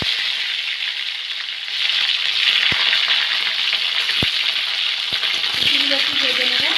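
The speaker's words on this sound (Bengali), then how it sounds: "উচ্ছেগুলো একটু ভেজে নেবো।" Bitter gourd pieces fry in hot mustard oil seasoned with panch phoron for a shukto, a loud steady sizzle that swells midway, with occasional sharp clicks of a spoon against the pan.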